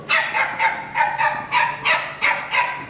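A performer barks like a dog repeatedly in a steady rhythm during a stage musical, about eight sharp barks in quick succession, loud and close.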